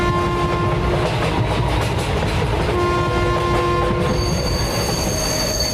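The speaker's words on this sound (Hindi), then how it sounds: "ट्रेन स्टेशन पर आकर रुकती है।" A train pulling into a station and coming to a halt, loud and close, with a continuous rumble of wheels on rails and sustained high metallic squeals from the braking wheels.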